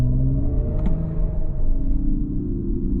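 Synthetic drive sound from a 2022 Mercedes EQS 450+ electric car on its Silver Waves setting: a steady, loud low hum with layered sustained tones that shift slightly in pitch, continuous throughout the drive.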